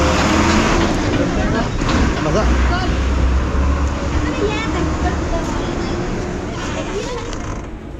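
Loud, rattling small-engine rumble of a moving auto rickshaw, steady throughout, with indistinct voices mixed in.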